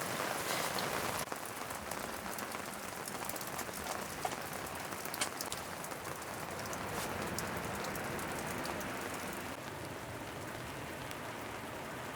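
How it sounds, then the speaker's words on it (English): Steady rain drums on the roof of a camper van parked in Tasmania, a dense, even patter of drops heard close and alone, with no talking. "It feels super cozy in the van when it rains."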